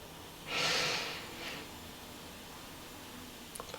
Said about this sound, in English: We're taking a breath in for 4.